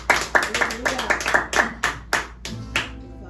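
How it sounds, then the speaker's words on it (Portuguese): Rhythmic hand clapping from a small church group at an evening service, steady beats about three per second, loud and close, with a voice briefly underneath. "Vamos aplaudir o Senhor Jesus nesta noite?"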